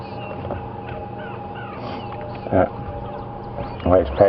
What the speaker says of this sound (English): There's an Egyptian goose